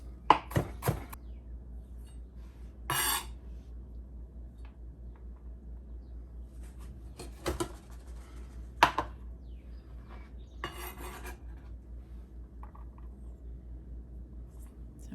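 A knife chopping green peppers into small pieces on a cutting board: sparse, quiet isolated taps and short clusters of cuts spaced several seconds apart, close and faint, with no talking.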